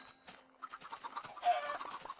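Several chickens cluck softly in short, uneven bursts, fairly quiet and close, with a few higher squawks near the end.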